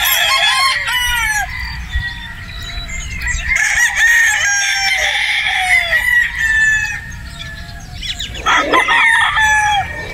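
Boston Black straight comb gamefowl roosters crowing repeatedly at close range, overlapping calls with clucking between them, no talk.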